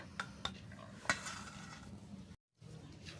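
A spoon stirs and mashes tomato in a pan while making steamed rice with peas, giving soft, quiet scraping with a few light clinks of metal against the pan. It breaks off briefly, then continues.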